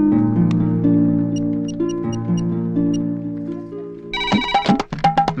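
A phone line ringing on an outgoing call, a sustained melodic ringback tone with stepped pitch changes that gives way to a burst of sharp clicks and rapid tones near the end, loud and close with no speech.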